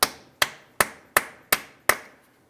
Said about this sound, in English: Let's continue on with a hammer and punch directly in the center of the axle.